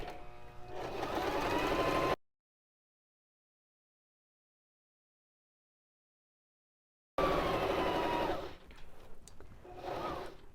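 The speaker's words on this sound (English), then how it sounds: "I'm stitching down permanently that neck strap" A Baby Lock Zest sewing machine stitches down the neck strap of a kids' apron, a steady close whirring hum in two runs separated by a few seconds of silence.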